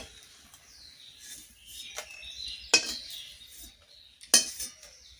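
Dry red chillies tossed in a pan, with a faint dry crackle and two or three sharp clinks of a spoon against the metal, close but fairly quiet, no voices.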